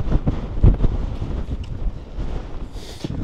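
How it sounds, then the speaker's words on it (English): Strong gusts of wind buffet the microphone on an exposed mountain summit, rushing and roaring in uneven surges with no voices. "Yeah, breezy up here."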